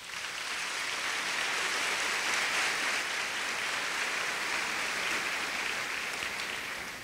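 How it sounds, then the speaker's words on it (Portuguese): A large audience at a school event at Colégio Singular gives sustained, even applause, a dense hiss of many hands clapping at once for about seven seconds without any talk. "Por favor, aplausos."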